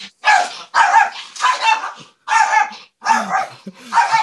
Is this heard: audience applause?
no